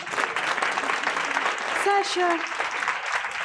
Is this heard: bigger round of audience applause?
yes